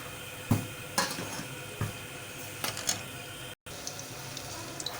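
Besan pakoras fry in hot oil with a steady background sizzle, broken by several sharp clinks of a metal utensil against the pan as they are turned, and one brief dropout; no talk.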